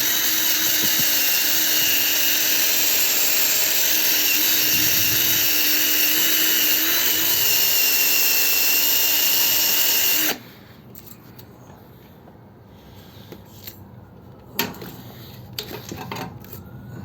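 A power drill whines loudly and continuously while cleaning Znen Tommy 125 scooter parts during a restoration, then cuts off abruptly, leaving quiet handling clatter and a few small knocks.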